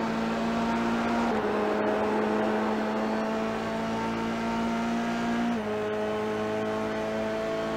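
Formula 3 race cars lapping at Autódromo José Carlos Pace in iRacing give a steady, loud engine drone whose pitch holds then steps down at gear shifts, continuous and close with no talk.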